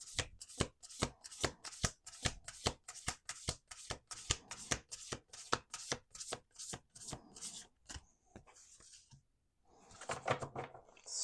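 A deck of playing cards is shuffled by hand in a fast run of crisp riffling bursts, then slows to softer handling and a pause before one last brief riffle, close with no voices.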